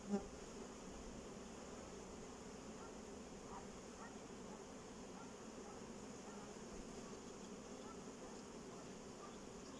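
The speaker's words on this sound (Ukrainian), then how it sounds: "звідси можна буде струсити бджоли трохи" A steady, faint hum of many honeybees buzzing continuously at an open hive frame, with a soft background drone and no distinct breaks.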